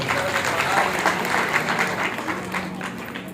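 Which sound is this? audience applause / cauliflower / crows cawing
audience applause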